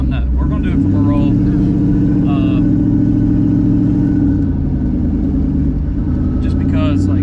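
Twin turbo Coyote-engined Mustang on radials pulling hard from a rolling start, a loud sustained engine roar with layered harmonics that rises and holds, close and dominant, with brief voices at the start and end.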